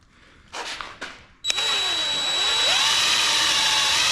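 A power drill gives two short revs, then spins up into a loud, sustained high whine that dips briefly as it bores into a 1966 Ford F100's metal frame.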